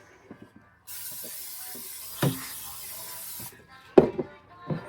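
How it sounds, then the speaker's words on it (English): A continuous cooking spray hisses onto food for a few seconds, nearby and fairly loud, framed by small clicks and kitchen clatter. "I'm going to spray these again."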